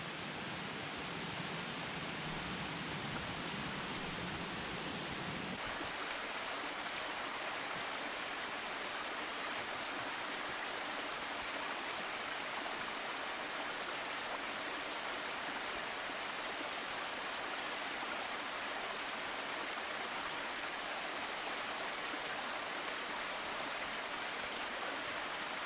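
Chestnut Branch, a creek beside a Smoky Mountains trail, rushes in a steady broadband roar of flowing water, close and unbroken, with no voices.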